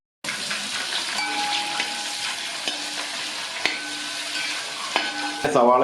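Fennel seeds, chopped ginger and garlic fry in hot oil for Kerala-style beef fry, a dense continuous sizzle close by with occasional spoon knocks and a louder crackle at the end.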